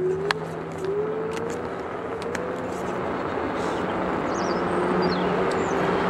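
An RCB RE24 800W 48V electric scooter riding in speed 2, a steady whining motor tone that rises slightly in pitch over a constant rush of road and wind noise, close and unbroken, with a few faint bird chirps.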